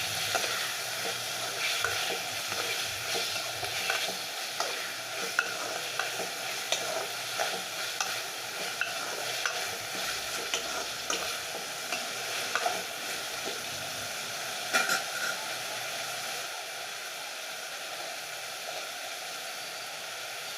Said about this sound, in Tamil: அது கூடவே கட் பண்ணி வச்ச தக்காளி ஆட் பண்ணிக்கோங்க. அதோடு சேர்த்து நல்லா வதக்கிக்கோங்க.